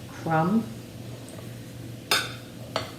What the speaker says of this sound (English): I just mix it together.